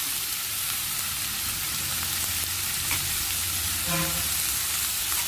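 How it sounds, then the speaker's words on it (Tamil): Onions frying in a pan for an ivy gourd curry, a steady close sizzle throughout with a brief clatter near the end. "வெங்காயம் நல்லா வணக்கணும் பாருங்கள் நல்லா வணங்கிடுச்சுங்க"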